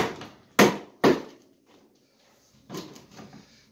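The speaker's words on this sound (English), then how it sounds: "we're gonna go ahead and pop this side of the bumper off." Plastic bumper cover on a 2019 Chevy Traverse being pried loose: two sharp pops close together, then quieter rustles and a softer snap of plastic clips releasing, heard close up.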